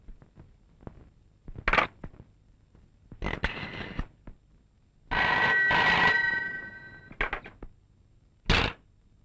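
A telephone rings in short repeated bursts during a phone call, loud and close, with brief pauses and a longer continuous ring in the middle; no one speaks over it.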